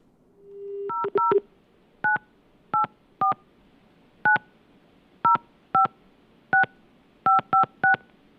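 A short steady tone gives way to a series of electronic keypad dialing beeps in quick single and paired bursts.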